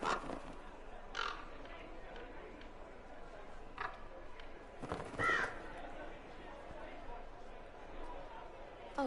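Crows caw in short bursts at a distance inside the Dragon Age: Inquisition Trespasser game world, scattered over steady ambient noise while people talk nearby.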